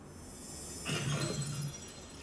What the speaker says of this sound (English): or glass breaking.